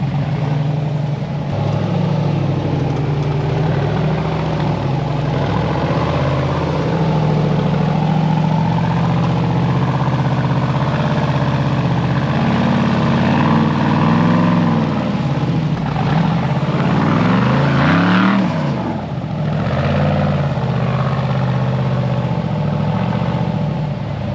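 Rock bouncer off-road buggy engine climbing a steep sand slope at Sand Hollow: a loud, continuous throaty roar that rises and falls with throttle, swelling in a strong rev near the end.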